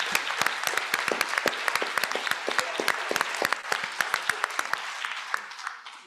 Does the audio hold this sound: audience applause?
yes